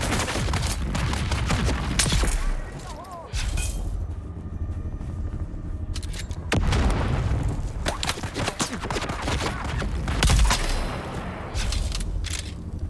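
Dense, rapid gunfire from the video game Dune: Awakening, with sustained volleys and heavy booms that come close and loud, broken by a short lull before the shooting resumes.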